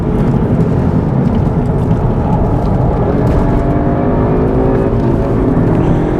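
A Cupra is driven hard on a race track in pursuit of an Audi RS3, its engine roaring loudly and steadily from the cabin, revs climbing gradually with a rumbling road-noise bed throughout.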